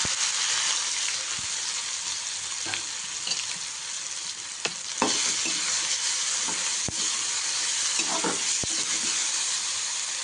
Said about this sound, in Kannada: ನೆಕ್ಸ್ಟ್ ನಾನು ಇದಕ್ಕೆ ಚಿಕ್ಕದಾಗಿ ಕಟ್ ಮಾಡ್ಕೊಂಡು ಈರುಳ್ಳಿನ ಹಾಕೋತಿದ್ದೀನಿ